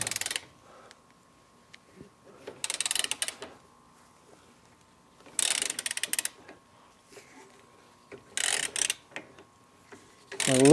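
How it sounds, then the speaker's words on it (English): A wrench ratcheting and clicking as it loosens a castle nut on a VW Beetle's rear IRS axle, in several separate bursts of metallic clatter with quiet gaps between. "Loosening our castle nut"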